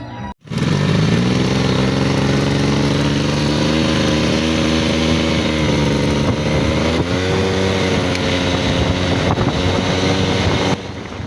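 A Suzuki V100 scooter engine starts up and idles loudly and steadily close by, its buzzing drone rising slightly in pitch partway through before cutting off.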